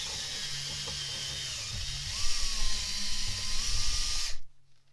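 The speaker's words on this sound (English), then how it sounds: "take that 5/32 bit and run it down this hole in the plastic" A 5/32 drill bit bores through a plastic hole on an SCX10 II RC crawler, a steady motor whine that climbs in pitch partway through, then stops abruptly.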